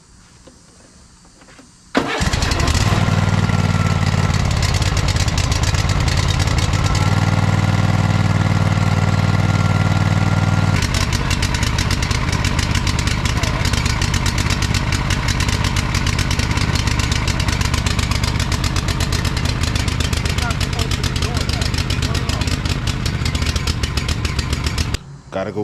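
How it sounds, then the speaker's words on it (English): A lawn mower engine fires up after about two seconds of quiet and keeps running loud and close, with a steady rough drone and a shift in pitch midway through. "This lawnmower take a little less than 2 quarts"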